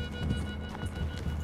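Horse hooves in the video game Red Dead Redemption 2, a rapid clip-clop of several horses moving through woods, steady and mid-distance over a soft ambient bed, with faint speech underneath.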